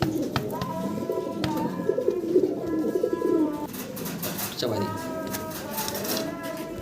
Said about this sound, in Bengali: কবুতরের সর্বোচ্চ কালার কোয়ালিটির একজোড়া এক্সিবিশন কবুতর